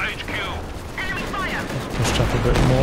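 Gunfire and suppressing machine-gun bursts from the Company of Heroes 2 strategy game in a 2v2 match, a steady dense rattle of battle noise building louder toward the end, with someone talking over it.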